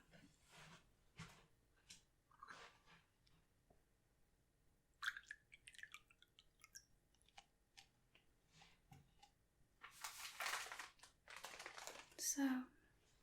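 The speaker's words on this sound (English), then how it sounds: "One second, let me pour you a cup." Tea is poured from a pot into a cup in a quiet, close indoor setting; a brief liquid pour follows soft, sparse handling noises.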